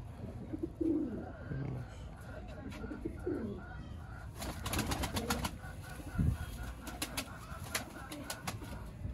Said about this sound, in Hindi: ये भी असल काले मुंह वाला कबूतर।